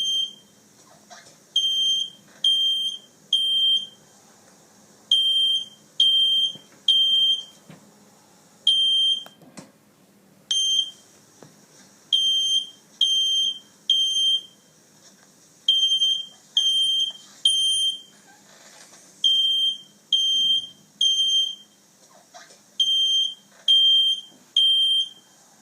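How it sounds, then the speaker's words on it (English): A home smoke alarm sounds loud and close in a steady repeating pattern of three piercing beeps followed by a short pause, cycling on and on with no voices. "I will start the fire alarm sounds in my home."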